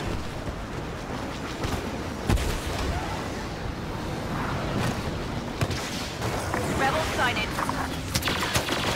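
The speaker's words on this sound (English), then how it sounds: "Killed both of us with barrage." Artillery barrage in the Star Wars Battlefront Walker Assault mode, a dense stretch of booming impacts and rumbling blasts lasting the whole time, with a sharp crack early on and players' voices over the battle.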